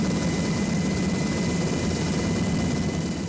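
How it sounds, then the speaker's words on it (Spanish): Air Force helicopter hovering over rough rural terrain in Nariño, Colombia, a loud steady rotor and engine drone that holds constant throughout, with no talk. "el helicóptero de la Fuerza Aérea no pudo aterrizar"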